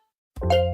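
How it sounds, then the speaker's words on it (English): A short bright plop-and-ding chime used as the sound effect for a car being added to Cars.com, a single quick tone after a brief silence. "Oh, that's the sound of a car being added to Cars.com."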